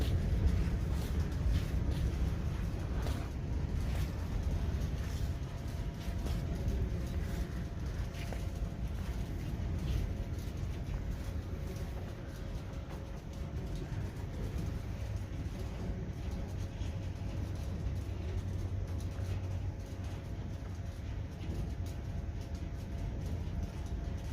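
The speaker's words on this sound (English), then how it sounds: "that wind is terrible" Wind buffets a microphone outdoors at the South Dakota Air and Space Museum, a constant low rumbling roar that swells and eases slightly throughout, with no clear voices.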